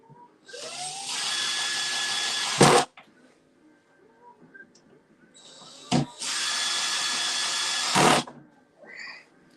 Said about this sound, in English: if you guys don't have a drill with a clutch setting where you can set it to its lowest torque or power level